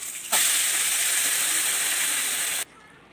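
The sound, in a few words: boiled dal added to hot asafoetida tempering, sizzling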